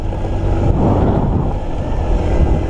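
Suzuki GD110 motorcycle engine running while riding, a loud steady drone buried in heavy wind rush from the road, with no voices.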